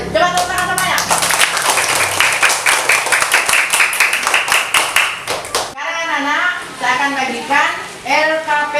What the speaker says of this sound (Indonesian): Coba tepuk tangan semuanya.